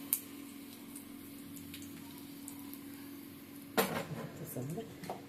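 Dried red chillies being stirred in a pan, with a few scattered metallic clinks early on, then a burst of spoon scraping and rattling against the pan near the end over a steady low hum.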